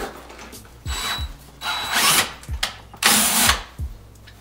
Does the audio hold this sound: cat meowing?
no